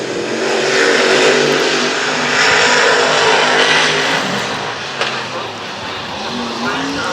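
Super Stock race cars roar around the Brownstown dirt oval during a heat race, a loud continuous engine drone with a commentator talking over it throughout.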